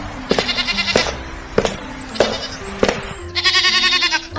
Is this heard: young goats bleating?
yes